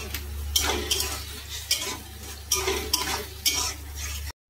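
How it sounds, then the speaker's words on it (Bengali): Chilli chicken coated with red and Kashmiri chilli powder and salt gets stirred in a pan, five or six distinct scraping strokes at a steady rhythm over a low hum, close by with no talk. "কাশ্মীরি লঙ্কার গুঁড়ো, স্বাদ মতো লবণ, ভালো করে নেড়ে নিতে হবে।"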